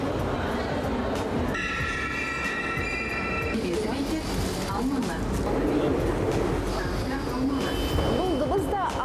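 An Almaty metro train rumbles past loudly and continuously, with steel wheels squealing in sustained high tones for a couple of seconds amid the clatter, filling the whole stretch.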